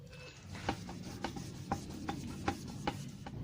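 Sandpaper is rubbed slowly and carefully by hand over a motorcycle body panel, working at the edges and corners before a clear coat goes on. About eight quiet, close rasping strokes come at an even pace.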